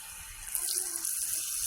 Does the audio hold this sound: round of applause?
no